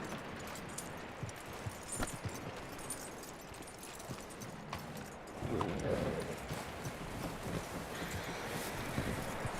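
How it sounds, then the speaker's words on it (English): Horse hooves clip-clop at an uneven walking pace over rustling, windy background noise in the video game Red Dead Redemption 2, growing a bit louder midway. "That looks like a decent horse."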